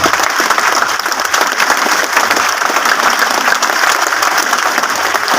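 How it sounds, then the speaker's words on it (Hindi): Loud, sustained applause from a seminar audience in Hazaribagh, a dense wash of clapping hands that runs steadily from start to finish with no pauses. "जोरदार तालियां"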